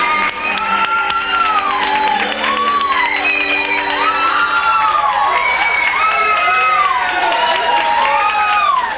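A studio audience at a 1996 Brazilian TV variety show cheers loudly for a performing group, with sustained shrieks and rising shouts, many of them children's voices, and possible applause underneath.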